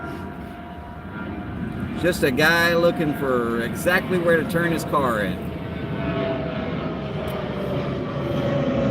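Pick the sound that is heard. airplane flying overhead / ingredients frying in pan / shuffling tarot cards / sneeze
airplane flying overhead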